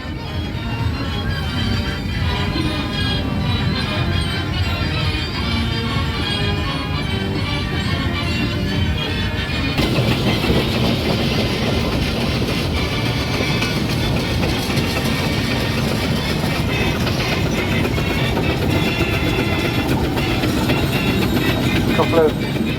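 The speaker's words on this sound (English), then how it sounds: "Couple of heavy road locos coming through now." Heavy steam road locomotives rumbling past at the Whitby steam rally, a steady clanking, chuffing mechanical roar that stays loud and close throughout, with a busy crowd murmuring underneath.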